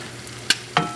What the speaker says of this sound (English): It's the beauty of cooking with a perfectly seasoned cast iron pan.